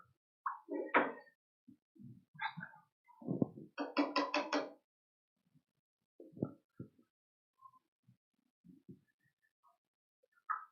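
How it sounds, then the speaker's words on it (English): A paintbrush rinsed in a water cup during a painting session: scattered close taps, swishes and small knocks against the container, in short irregular bursts with pauses between. "let me rinse off my brush here"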